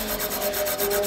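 A valve seat in a four-valve Yamaha YZF-R3 motorcycle cylinder head is reamed with a steady, gritty scraping and grinding, heard close and loud with a faint pulsing rhythm as the tool turns.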